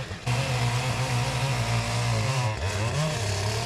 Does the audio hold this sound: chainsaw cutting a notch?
yes